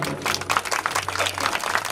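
At a religious gathering, an audience breaks into dense, continuous clapping, loud and close, with a low hum underneath throughout.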